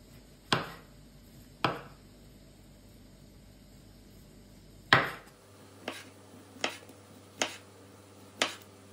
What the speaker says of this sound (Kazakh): Енді апельсиннің қалған қабығын аршып, өзін ұсақ етіп турап аламын.